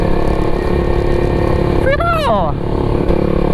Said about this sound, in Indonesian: Nggak semua orang di dunia ini tuh suka knalpot racing,